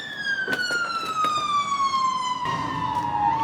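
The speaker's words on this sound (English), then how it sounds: "Fire engine flying back." A fire engine siren wails loudly, its pitch sliding steadily downward as it passes, with faint traffic noise underneath.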